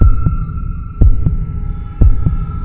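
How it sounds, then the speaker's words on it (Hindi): Slow, heavy heartbeat effect in a quiet, tense setting, three loud double thumps about one second apart over a low steady hum, close and prominent with no voices. "सन्नाटा इतना गहरा कि खुद के दिल की धड़कन सुनाई दे रही थी।"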